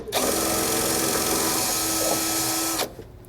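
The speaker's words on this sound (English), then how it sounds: "we're going to take our 1/2 inch drill bit, we're just sort of going to get a pilot started so we can get the center of that hole" A 1/2 inch drill bit bores a pilot hole through a metal frame while a front anti-sway bar is fitted to a 2009 Coachworks Siena motorhome. One loud, steady whirring drill run lasts under three seconds, then stops abruptly.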